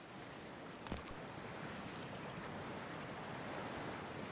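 A character wades into freezing, toxic water in Cyberpunk 2077, giving a steady wash of watery noise with a brief splash near the start, heard alone at moderate level.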